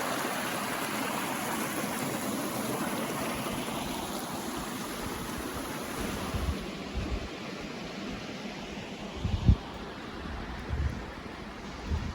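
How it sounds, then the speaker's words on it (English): Continuous rushing water from a small waterfall on a shallow river in Algonquin Park, a steady broadband splash with a few nearby knocks and bumps. "Very pretty little waterfall here."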